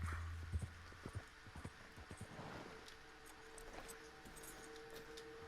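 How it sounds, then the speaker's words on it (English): Horse hooves clip-clop at night in Red Dead Online, a run of sharp irregular hoof strikes that fades into a softer rhythm under a quiet ambient hum. "get back on your horse"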